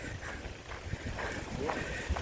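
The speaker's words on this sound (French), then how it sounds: "Ah, c'est du bien le vent." Wind blows steadily outdoors in nature, buffeting the microphone with a low, rumbling rush, while a voice talks faintly underneath.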